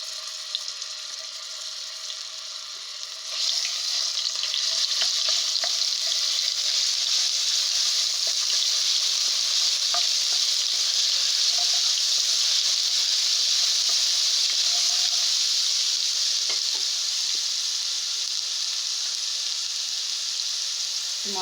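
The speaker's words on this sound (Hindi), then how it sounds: "जिस ऑयल में मैंने प्याज फ्राई किए थे उसी ऑयल में हम अब इसमें लहसुन अदरक का पेस्ट डालेंगे गरम करने के बाद" Garlic ginger paste sizzles steadily in hot oil left over from frying onions for a brain masala curry, a loud broad hiss that jumps up after a few seconds and holds, with faint stirring clicks.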